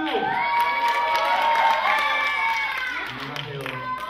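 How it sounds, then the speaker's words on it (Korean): A concert audience erupts in cheering and shouting, with scattered clapping and whoops blending into a loud, lively burst of applause. "박수!"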